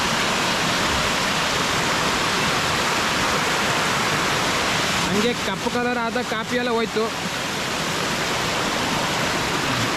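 A waterfall on a coffee estate in heavy rain, water pouring white like milk, gives a constant loud rushing roar; someone speaks briefly over it near the end.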